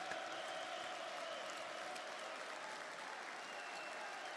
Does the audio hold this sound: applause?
yes